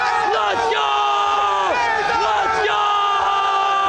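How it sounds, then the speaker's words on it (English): Arena crowd at a Counter-Strike quarter-final between G2 and FaZe Clan on Mirage at IEM Dallas 2023, roaring and chanting in a sustained, dense wall of yelling voices that swells and dips in waves. "That's where FaZe Clan is getting the crowd hype from everyone in here."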